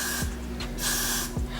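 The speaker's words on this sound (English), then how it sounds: "So now I'm going to take my Got to Be Glued freezing spray." Got to Be Glued freezing spray hisses onto the lace of a wig unit in two close, sharp bursts, the second longer, with no talking.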